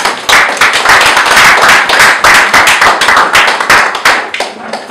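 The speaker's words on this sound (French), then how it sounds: "Applaudissements encore, s'il vous plaît." An audience keeps up sustained, loud clapping to welcome a singer presenting an album. The sharp overlapping handclaps carry on steadily with small swells, and no voices break in.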